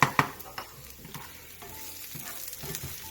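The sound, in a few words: food frying in a pan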